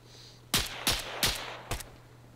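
Four sharp, loud sniper rifle shots from ArmA 3, spaced roughly a third of a second to half a second apart, each with a brief echoing tail over a steady low hum, with no talk.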